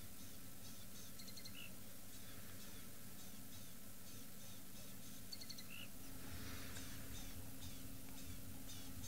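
A wild bird calling in the African bush, giving a few short repeated whistled notes over a constant low hum of wind and engine-like rumble, with the calls faint and distant.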